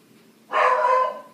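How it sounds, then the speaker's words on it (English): A single dog bark, close and fairly loud, lasting about half a second in an otherwise quiet indoor setting. "She's barking and barking and barking and barking."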